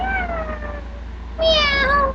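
A child imitates a cat's meow, two drawn-out high-pitched mews, the second brighter and more strained, close and loud with a low steady hum underneath.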